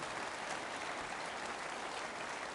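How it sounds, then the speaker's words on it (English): Sustained applause from an audience at a Conservative Party leadership hustings for Rishi Sunak, a dense, even wash of clapping that holds steady throughout with no voices over it. "Round of applause, please, for Mr. Sunak taking my questions."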